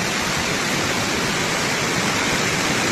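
Heavy typhoon rain and rushing floodwater near a cracked retaining wall in Baguio City, Benguet, make a steady, dense broadband roar that stays loud and unbroken throughout with no voices.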